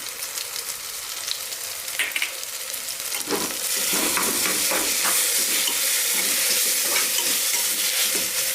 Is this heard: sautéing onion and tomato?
yes